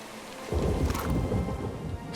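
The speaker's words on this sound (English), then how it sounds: "Storms raging above us." A thunderstorm rages in a fantasy role-playing game: a deep rumble of thunder swells in over steady rain hiss and keeps rolling, loud and close, with no talking.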